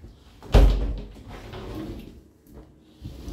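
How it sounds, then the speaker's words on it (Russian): Sliding door of a shower cabin in a new-build apartment bathroom in Turkey, opening with one sharp, loud thud and rumble near the start, followed by softer rattling and a faint scrape. "Дверь открывается в таком стиле."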